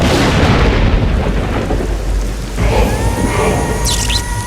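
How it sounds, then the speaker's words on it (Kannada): Loud thunder rolls with heavy rain in a film scene, as a dense, continuous storm roar that swells again partway through, with no talking. "ಈಗ ಗುಡುಗು ಮಿಂಚಿನ ಜೊತೆ ಮಳೆ ಬರ್ಲಿ ಅಂತೀನಿ"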